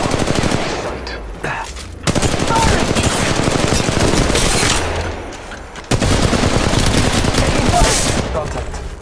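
Bursts of automatic gunfire in the mobile battle royale game Apex Legends Mobile roar loud and close, with rapid continuous shots broken by two short pauses.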